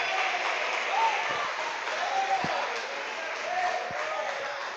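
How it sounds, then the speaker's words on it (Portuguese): A church congregation at a thanksgiving worship service claps in a steady, continuous wash of applause, with voices calling out over it throughout. "Aplauda Jesus de Nazaré"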